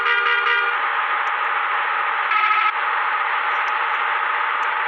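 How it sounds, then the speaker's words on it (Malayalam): A vehicle horn honks on a road where traffic gives way: a long, steady blare fills the first moments, and a second, shorter blast sounds a couple of seconds later over continuous traffic drone. "നമുക്കിവർ ഹോൺ അടിച്ച് കഴിഞ്ഞാൽ സൈഡൊക്കെ തരും കേട്ടോ"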